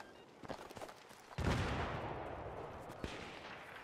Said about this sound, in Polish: Ktoś tu do mnie strzela.